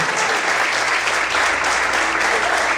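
Steady, loud applause fills a church hall as the congregation claps together during a sermon, a thick unbroken roar of many hands.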